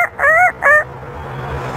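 An African grey parrot imitates a rooster's crow with two short, nasal calls in quick succession, close up, then quiet.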